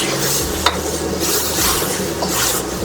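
Pork with white and green onions tossed in a pan of thickening Mongolian sauce, a steady close sizzle with scraping stir and a single sharp clink of metal on the pan partway through.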